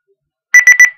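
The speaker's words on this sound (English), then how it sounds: "That's my alarm thing." An alarm beeps loudly in three quick electronic bursts after a moment of silence.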